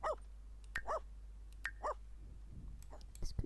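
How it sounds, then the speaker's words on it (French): A German shepherd type dog gives a series of sharp, close barks in pairs, followed by softer whimpering yips near the end, in a quiet room. "Pourquoi tu aboies, mon grand?"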